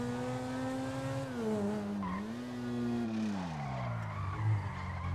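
A modded rear-wheel-drive Ferrari F12 drifts in GTA V, its engine note rising and falling in sweeping pitch while tires squeal and skid continuously, loud and close with no talk.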